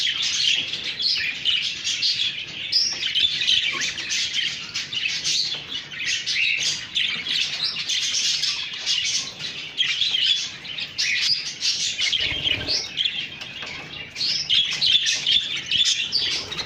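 Pet birds in a large aviary cage chirp and tweet nonstop, a dense, close chorus of bright overlapping calls with occasional squawks and wing flutters.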